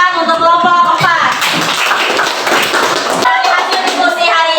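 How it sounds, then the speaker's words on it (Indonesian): A classroom of students applauds group 4, a burst of dense clapping lasting about two seconds, with a teacher talking just before and after. "kita beri tepuk tangan untuk kelompok 4"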